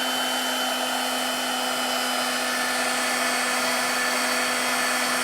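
A heat tool drying ink on a Stampin' Up! heart craft blows with a constant loud whirring roar and a steady motor whine, unbroken from start to finish, with no talking.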